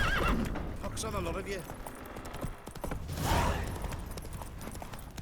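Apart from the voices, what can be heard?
horse neighing and galloping in video game The Witcher 3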